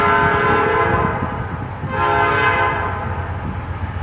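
Freight train led by a BNSF locomotive passes while its horn blows in two long, loud chords with a short gap between, over rumbling rail noise, in Wauseon, Ohio.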